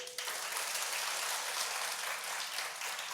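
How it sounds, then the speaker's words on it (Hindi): An audience gathered for a talk about a wife performing tantra on her husband claps in a sustained, even burst that starts abruptly and carries on at steady strength to the end. "यदि सही है तो ताली बजा दीजिए"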